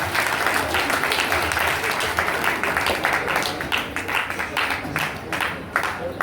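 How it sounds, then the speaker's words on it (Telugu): Loud, sustained applause from an audience welcoming a priest at a church honour ceremony, with dense clapping filling the whole stretch alongside some crowd murmur. "గట్టిగా చప్పట్లు కొట్టుకుంటూ ఫాదర్ గారిని ఆహ్వానిస్తున్నాం"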